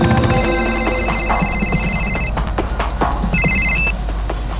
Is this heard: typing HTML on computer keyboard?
no